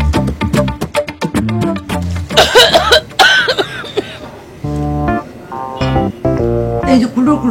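A person coughs repeatedly in short harsh bursts and throat-clearing fits, close and loud, mixed with speaking voice between the coughs in a domestic drama scene.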